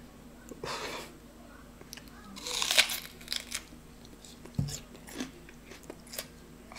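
A raw onion is bitten and chewed like an apple, close and loud crunchy bites followed by wet chewing, with breathing in between.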